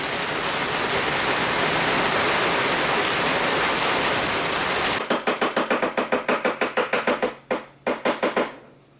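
Heavy rain from a severe thunderstorm roars as a dense, loud hiss for several seconds, then gives way to a rapid series of sharp rhythmic knocks or chops.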